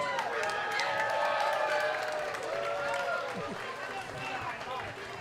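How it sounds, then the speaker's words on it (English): A wrestling event crowd in a live arena applauds and cheers, a broad sustained roar with whoops rising over it, while voices carry across the noise before it gradually thins out. "Give him another round of applause."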